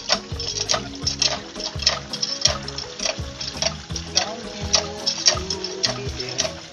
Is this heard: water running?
yes